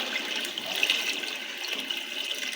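Jaggery water poured through a strainer while making jaggery rice, a steady splashing stream that runs without a break for a few seconds, close by and fairly soft, with no voices.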